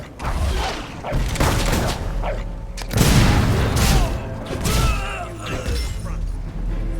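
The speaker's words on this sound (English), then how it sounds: "The enemy's shooting at us! Take that mortar out." Fable 3 battle with mortar booms and bursts of gunfire, several heavy impacts and crashes spread across the stretch, a big blast near the middle, loud and close with mechanical clatter between shots.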